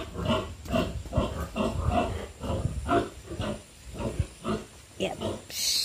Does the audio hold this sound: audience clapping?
no